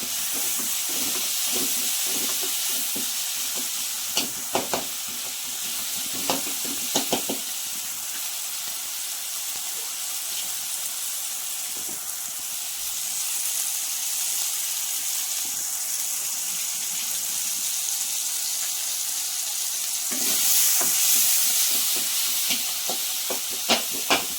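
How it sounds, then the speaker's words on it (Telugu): Tomatoes mashed and stirred in a hot frying pan with salt, a steady steamy sizzle and hiss with scattered scraping taps from the utensil, close and continuous, briefly louder near the end. "ఇట్లా బాగా గుజ్జు చేస్తామంటే గుజ్జుగా అయిపోతుందండి టమాటా"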